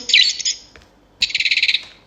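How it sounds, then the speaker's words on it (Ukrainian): A small bird chirps close by in two quick bursts of rapid, high tweets separated by a short pause, with no voices. "Цілу дорогу вона мені цвірінькала."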